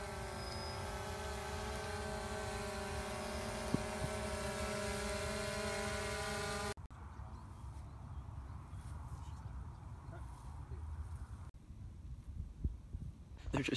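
A drone flies overhead at a trampoline park, its steady multi-tone whine humming continuously and fairly loud for several seconds before giving way to quieter, muffled background noise.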